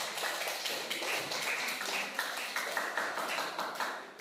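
Classroom applause for a student group, a dense run of many hands clapping close by, steady for several seconds with sharp individual claps standing out.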